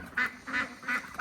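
A duck gives three short nasal quacks in quick, even succession, fairly close and clear against a quiet outdoor background.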